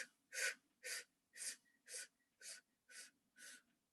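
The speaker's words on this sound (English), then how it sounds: "So we're going to suck the air in and fill up our balloon." A person breathes in sharply and audibly, seven short, even inhales in a steady rhythm, close and clear against silence.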